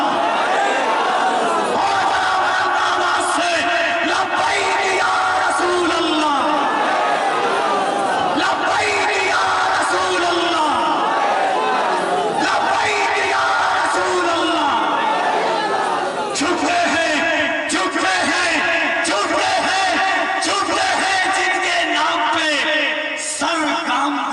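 A large crowd at a religious gathering shouts Labbaik Ya Rasool Allah together, a loud sustained roar of many voices with repeated surging chants that continues throughout.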